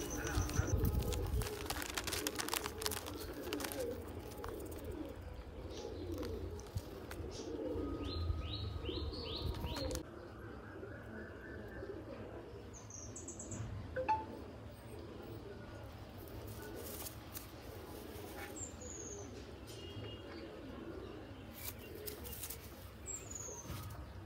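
Giribaj pigeons in a loft coo and chirp at a moderate distance, with soft wing flutters and shuffling, a steady murmur of birds throughout and some background voices.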